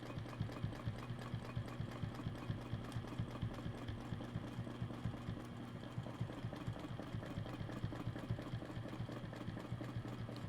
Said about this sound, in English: So I'm simply stitching from one needle stop to the other.